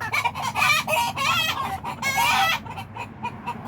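Silkie chickens cluck in a rapid, busy chorus close by in a winter garden pen with fresh bedding, the calls dense and overlapping before thinning into scattered softer clucks.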